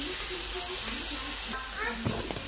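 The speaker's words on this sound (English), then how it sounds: "mix it in a little bit of olive oil. And add in the rest of my chopped onions" Chopped onions sizzling in olive oil in a pot, a soft steady fizz running throughout with a few light stirring scrapes and faint clinks near the end, moderately quiet.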